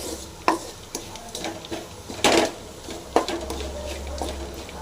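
A spoon stirs snake gourd stir-fry in a pan, with several scraping, clattering strokes against the metal over a faint sizzle.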